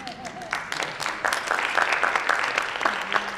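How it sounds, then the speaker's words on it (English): Audience applause at a Martin Luther King Jr. commemoration event, a steady wash of clapping that builds and holds through the clip, with a brief voice at the start. "you can clap for that"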